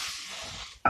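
Onions going into a hot pan for spaghetti bolognese, a bright steady hiss of sizzling that fades slightly, followed by a short clatter of a utensil against the pan at the end.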